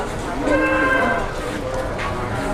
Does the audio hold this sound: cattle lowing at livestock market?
yes